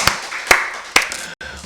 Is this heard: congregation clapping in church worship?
yes